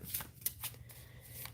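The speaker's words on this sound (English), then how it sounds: "I'm trying to shuffle them so they don't get messed up." A deck of tarot cards is shuffled close by in a few quick riffling bursts, crisp papery flutters with short pauses between them, and no one speaks.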